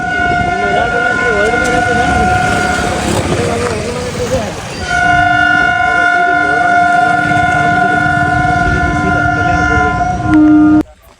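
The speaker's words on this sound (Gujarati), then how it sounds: "ટ્રેન આવી રહી છે." A train horn sounds at a closed railway level crossing, long loud steady tones that break briefly and resume, with a rumble of traffic and nearby talk underneath.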